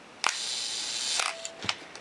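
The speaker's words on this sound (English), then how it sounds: "when I release it, shutter closes and mirror flips back down" At a one-second shutter speed, a Pentax K film SLR gives a crisp opening clack, a faint whirring pause of about a second, then a second snap as the shutter closes and mirror drops, with light clicks after.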